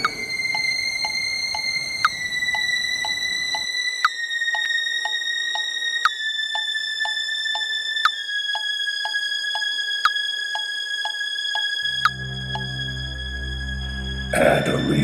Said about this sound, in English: Start with the highest pitch you can and work your way slowly down the